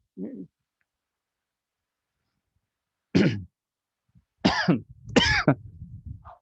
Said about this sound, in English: I say that as I'm coughing right now.